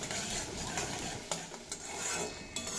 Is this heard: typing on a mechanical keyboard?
no